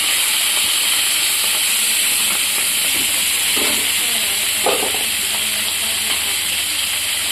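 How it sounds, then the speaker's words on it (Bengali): Dried chandana fish (shutki) frying in oil, a dense continuous hiss and sizzle, loud and close, with a few soft bursts of crackle partway through and no voices. "এবার চন্দনা যে শুটকিগুলো আছে সেগুলোকে ভেজে নেব।"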